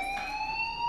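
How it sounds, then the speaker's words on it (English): A fire alarm rings in the video game Life Is Strange, a steady electronic tone with a bright overtone held for the whole short moment, moderately loud and without speech. "do you hear that fire alarm?"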